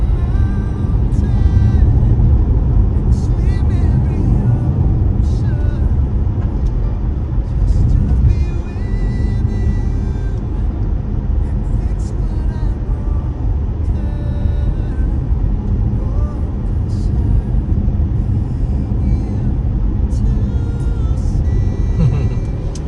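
A high-tech automatic car driving on the road, with steady engine and road rumble heard from inside the cabin and some talk over it.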